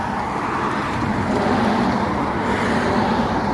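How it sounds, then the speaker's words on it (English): A steady roar of cars and road noise rolls along a main road beside a Florida beach, loud and continuous with no distinct pass-bys or voices. "So look right here, this is just the main road."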